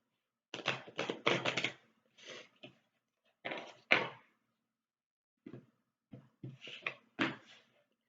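A deck of Tzigane oracle cards is shuffled in close, crisp bursts of riffling and flicking, separated by short pauses of silence.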